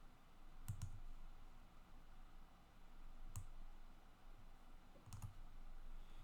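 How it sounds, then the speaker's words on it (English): Computer mouse clicking while sorting a spreadsheet: three faint, sharp clicks spaced a few seconds apart, the first and last doubled, over a quiet room hum. "if you click this triangle and sort from largest to smallest"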